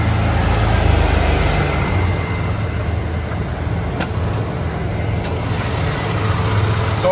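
The 4.9 six-cylinder engine of a 1998 Ford F1000 XLT pickup runs steadily with a loud, close, even rumble and no pause, with a few faint clicks over it.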